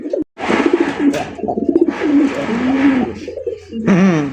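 Loud, close pigeons, a new fantail cross breed, coo in several drawn-out, throaty phrases with brief pauses between them.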